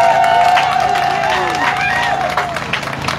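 A crowd at a political party rally applauds and cheers in honour of the soldiers, a loud dense clapping with voices and babble mixed in, held at a steady level.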